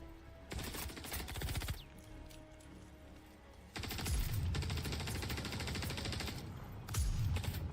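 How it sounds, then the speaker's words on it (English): Gunfire from a sniper rifle in the Star Citizen video game, heard as heavy, booming blasts in several loud bursts, the biggest swells coming near the middle and the end of the stretch. "listen to that freaking sniper shot. It sounds like a monster."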